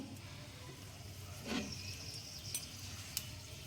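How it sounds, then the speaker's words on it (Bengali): Dried red chili dropped into hot leftover fish oil in a kadai, giving a faint, steady sizzle with a brief louder burst near the middle and a couple of small clinks. "মাছের তেল যে কড়াইটাতে আছে সেই তেলের মধ্যে আমি একটা শুকনো লঙ্কা"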